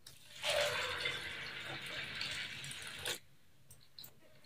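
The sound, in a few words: fresh water added to sago pearls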